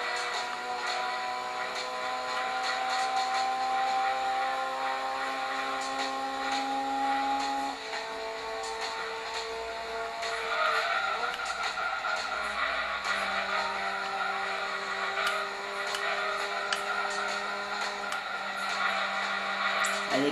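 A Ford Ka race car in Gran Turismo 2, its synthetic engine note holding steady then shifting pitch through gear changes, with tyre squeals and skids scattered over a continuous, fairly quiet drone.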